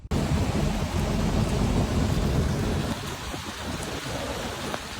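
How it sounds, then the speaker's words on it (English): Steady heavy rain pours down with a deep rumble of thunder rolling underneath, easing slightly partway through. "Right through the rain."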